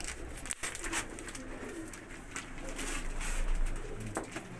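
Pigeons cooing in a loft, several soft, overlapping throaty coos repeating close by over a dense background murmur.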